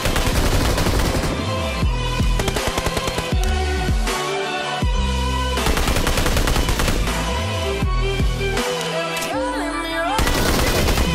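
Rapid bursts of SKS rifle fire in the PUBG Mobile shooter, loud close cracks in quick tapped runs separated by short pauses, with a voice briefly heard.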